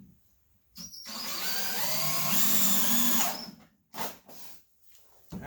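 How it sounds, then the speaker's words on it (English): Power drill driving screws into a treated wood board for a 45-degree RC ramp, one loud sustained whine rising in pitch for about three seconds, close by, followed by a few short bursts. "let me get some screws in this board"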